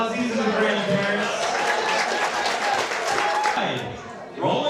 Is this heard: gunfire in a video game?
no